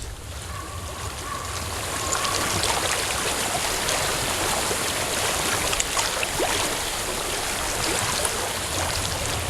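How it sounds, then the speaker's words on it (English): Flowing stream water in the video game Hellblade: Senua's Sacrifice makes a continuous broadband rush that swells slightly and then holds steady, with a faint tonal hum early on. "I hear water."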